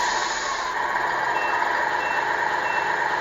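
A Tamiya 1/14 Globe Liner RC truck sounds its reversing beeper, a steady high-pitched repeating tone over a constant motor hum.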